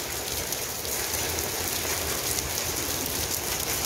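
Heavy rain mixed with hail pours down outdoors in a steady, dense drumming roar on surfaces. It is loud and constant throughout, with no voices.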